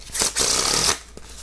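A deck of playing cards is riffle-shuffled, a close, loud burst of rapid crisp flutter lasting under a second, followed by a quick tap.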